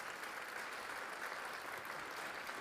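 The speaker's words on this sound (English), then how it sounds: "How about some applause for these folks?" Applause from the audience at a public safety awards ceremony, a steady, even wash of clapping held at a moderate, somewhat distant level for the whole stretch, with no voices over it.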